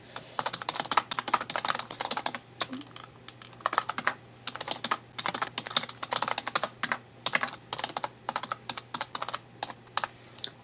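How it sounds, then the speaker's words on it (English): Fingers type quickly on a computer keyboard in irregular bursts of close, crisp key clicks over a faint steady hum, with no talking. "you'd need to then type those manually into that box on Adastra"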